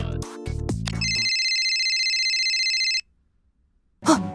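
A phone ringtone from the video game Destiny Child plays loud and close, a steady electronic ringing tone held for about two seconds after some game sound, then silence and a brief burst at the end.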